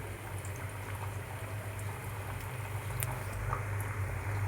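Homemade wheat biscuits deep-fry slowly in oil over a low flame, giving a steady, soft bubbling sizzle throughout with no talking.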